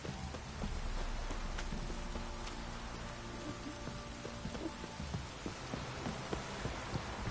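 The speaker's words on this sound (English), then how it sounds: "This downpour's a bastard, it is." Heavy rain pours down steadily in The Witcher 3: Wild Hunt, a dense hiss of drops with a faint low rumble underneath and no voices.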